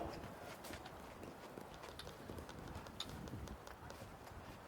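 Faint, distant hoofbeats patter in a rapid rhythm as polo horses gallop past during a match, soft and muffled.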